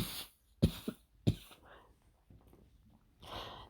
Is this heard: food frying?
no